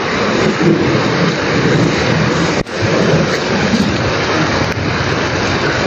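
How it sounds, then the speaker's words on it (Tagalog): Heavy rain pours down on a road in a constant, loud, dense roar that fills the whole stretch, with a brief dip partway through and no voices. "Grabe, sobrang lakas sa ulan mga tol."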